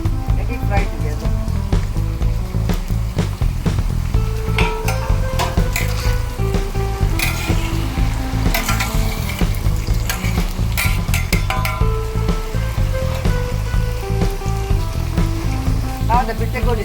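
Bitter gourd and curry leaves fry in hot oil with a steady, dense sizzle and crackle, punctuated by stirring clatter from a utensil against the pan.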